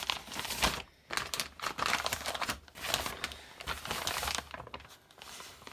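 Plastic packaging around a new military M16A2 upper being handled, close crinkling and rustling bursts in uneven waves, fairly loud and continuous, with no talk.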